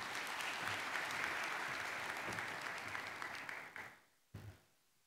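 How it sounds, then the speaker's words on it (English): Sustained applause from an audience at a diplomatic anniversary celebration, a steady wash of many hands that fades out near the end, with a brief final burst. "Another round of applause,"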